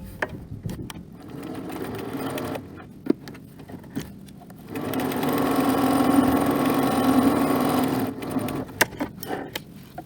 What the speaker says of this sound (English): I'm going to backstitch up to the top fold and then all the way down